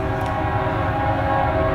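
A train rumbles past close by, loud and steady, with the low drone of rail cars and a sustained horn tone.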